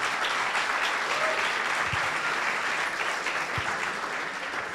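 Applause from an audience at an evening entrepreneurship talk welcoming a guest CEO, a steady close wash of clapping that fills the whole stretch and stays even in loudness.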